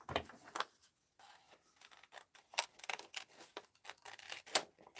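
Scissors snip through paper in irregular bursts to cut out a paper doll, with close, crisp cuts separated by short pauses and light paper rustling.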